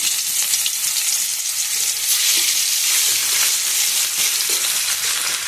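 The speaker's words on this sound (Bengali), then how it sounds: "তেল গরমে শুকনো লঙ্কা পুরন দিয়ে দিলাম, বেশ কিছুটা রসুন থেতো করে পুরন দিয়ে দিলাম" Dried chillies and crushed garlic frying in hot oil give a steady, loud, close hiss and crackle that holds for the whole stretch, with faint stirring clicks and no talking.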